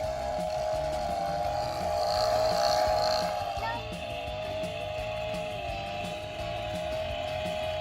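A battery-powered chainsaw whines steadily at a high pitch, rising briefly then settling, with rough cutting noise underneath as it cuts pecan tree wood.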